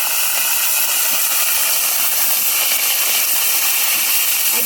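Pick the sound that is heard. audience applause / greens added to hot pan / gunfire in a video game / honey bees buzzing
greens added to hot pan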